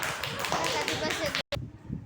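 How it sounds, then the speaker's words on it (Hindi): A class of children clapping together, a dense run of quick, overlapping claps that fills the room, broken by a brief gap before the clapping picks up again. "ताली बजाओ सभी लोग।"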